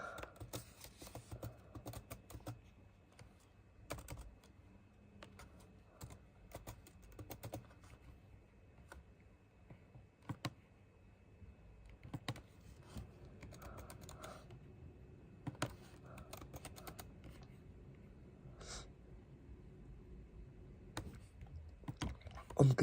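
Someone types steadily on a computer keyboard during a PC software install, producing quiet, close keystroke clicks in irregular bursts with short pauses, and faint speech is heard in places.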